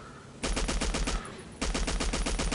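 A light machine gun fires in Battlefield 1942, loud rapid bursts of automatic fire in two long volleys with a short gap between them, no talking.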